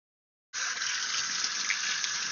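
Hot water bursts from a tap to rinse a mop, starting abruptly after a short silence and then running in a steady, close, hissing stream.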